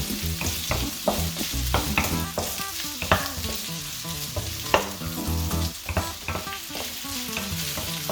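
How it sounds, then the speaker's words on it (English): Onions and carrots sizzle and hiss in a hot wok while a utensil scrapes and clatters against the metal in quick, uneven strokes, close and loud. "purely we're just stir frying them all."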